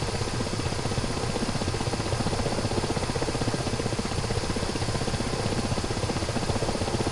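A video game helicopter flies on steadily, its rotor chopping in a continuous, even drone with no voices over it.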